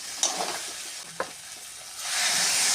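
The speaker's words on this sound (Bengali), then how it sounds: "ভালো করে কষানো হয়ে গেছে, এবার জল দেবো" Water poured into a kadai of fried spice masala for a vegetable soybean curry, with scraping stir strokes near the start, then a loud, steady sizzle rising at the end.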